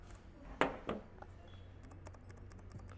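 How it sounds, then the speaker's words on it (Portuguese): Sparse notebook keyboard keystrokes, a couple of louder clacks followed by lighter, quicker taps, close up over a quiet background. "exatamente o barulho do teclado de notebook"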